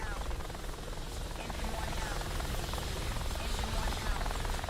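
Heavy helicopter rotor noise from an Apache in the combat game Contention, a dense continuous drone filling the whole stretch at close range with steady loudness.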